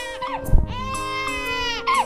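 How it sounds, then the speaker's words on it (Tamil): An infant cries indoors in a few rising, wailing bursts with short gaps between them, fairly loud and close and heard on its own. "பசங்களா குழந்தை அழுவுது"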